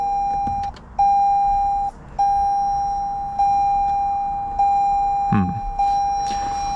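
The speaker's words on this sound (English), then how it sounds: "Sorry about the beeping, guys." Open-door warning chime from a new car during quick interior cleaning, a steady repeating beep tone pulsing in short regular bursts with brief gaps, close and loud, with a small knock partway through.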